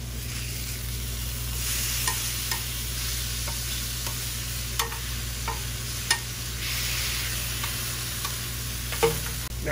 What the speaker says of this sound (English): And we're gonna give it a flip.